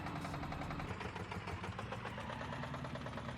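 A huge single-cylinder car engine idles in the BeamNG.drive driving game, giving a steady, fast, low knocking throb that runs evenly and alone throughout.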